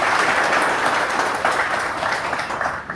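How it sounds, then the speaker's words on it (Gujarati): Audience applause welcoming guests at a Gujarati knowledge-forum talk with a Canadian environmental scientist, a dense steady wash of many hands clapping loudly throughout, easing slightly near the end. "એક વખત આપણે બધાને તાળીઓથી ગડગડાટથી વધાવી લઈએ."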